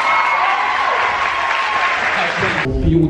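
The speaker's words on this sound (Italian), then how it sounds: "Applauso per Tonno." Audience applauding at a comics convention panel at Etna Comics, a dense, loud wash of clapping from a crowd that cuts off near the end as a voice begins speaking.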